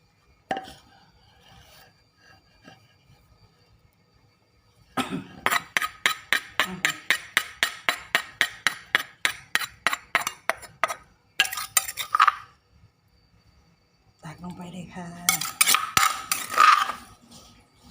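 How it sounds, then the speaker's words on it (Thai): A metal ladle scoops and scrapes pounded food into a cooking pot, a quick run of rhythmic clinks and taps after a quiet start, then a few more scraping bursts, close and with no talk. "เรามาตักใส่ หม้อกันเลยค่ะ"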